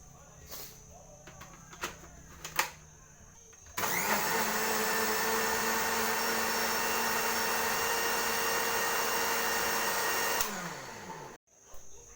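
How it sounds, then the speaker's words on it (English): A blender whirs loudly and steadily for several seconds as it mixes grated coconut with water, starting abruptly and cutting off, with a few clicks and knocks before it starts. "now you can mix it with water and put it in the blender to get the coconut"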